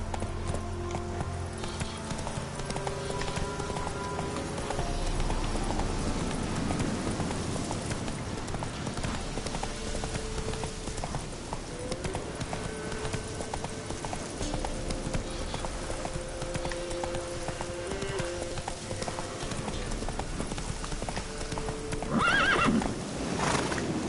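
A horse in The Witcher 3 gallops with a continuous clip-clop of hooves and whinnies now and then, layered over game music and ambient sound throughout.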